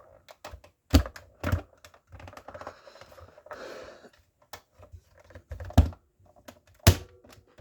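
Plastic parts of a Cars 2 Super Projector toy playset clicking and snapping together: a series of sharp, close clicks and knocks in an irregular rhythm, with light rustling handling between them and no talking.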